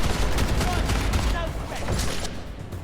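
Dense, continuous gunfire from a video game battle, overlapping rapid shots forming a loud steady barrage with no pauses.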